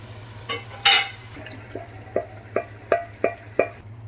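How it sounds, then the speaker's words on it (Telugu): Marinated mutton goes into a hot pan and gets stirred: a sharp sizzle first, then a steady run of spoon-against-pan scrapes and clinks about every half second, close and fairly quiet over a low steady hum. "ఇప్పుడు దీంట్లో మనం ముందుగా కలిపి పెట్టుకున్న మటన్ అయితే వేసేసుకుందాము"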